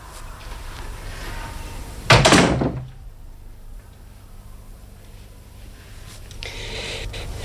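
A single solid thud of a door being shut indoors cuts through a steady room hiss, loud and brief, followed by quieter background noise.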